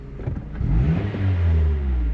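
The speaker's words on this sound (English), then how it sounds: "So that means the exhaust sounds are where they should be, at the back of the car." A 1989 Honda Prelude's engine and exhaust rev up from idle, rising into a smooth mid-pitched drone that holds steady, close and fairly loud, with no talk.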